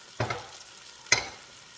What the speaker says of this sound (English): I'm just going to sear this on both sides, maybe this thick side too.